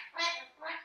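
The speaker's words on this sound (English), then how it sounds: "what you're hearing is an orange wing Amazon" An orange-winged Amazon parrot gives two harsh, nasal squawks in quick succession, the first longer than the second, heard close and alone in a quiet room.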